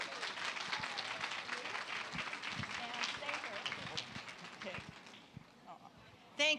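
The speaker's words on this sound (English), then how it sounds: "Give them a big round of applause" An audience at a charity fashion show gives a round of applause, dense clapping that thins and fades toward the end as voices rise over it.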